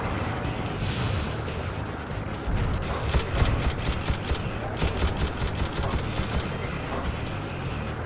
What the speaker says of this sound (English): Oh yeah, there's these turrets too.